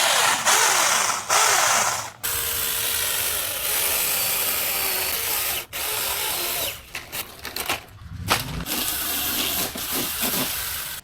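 An Anbull 2-in-1 cordless pole saw with a 6-inch mini chainsaw head runs in bursts, a loud buzzing whine that starts, stops abruptly and restarts several times, with uneven cutting-like fluctuations near the end.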